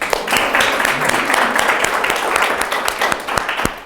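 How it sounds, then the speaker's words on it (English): Applause at a National Trust Fund event, a few seconds of steady clapping from a sizeable audience, with sharp individual claps standing out near the end. "Clap it up for them."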